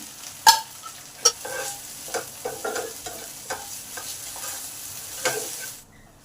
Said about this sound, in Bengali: মশলাটাকে 5 মিনিট ধরে ভালো করে কষে নিলাম।